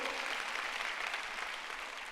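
A church congregation clapping during a Sunday sermon, a faint, steady wash of many hands that sounds somewhat distant and continues without a break.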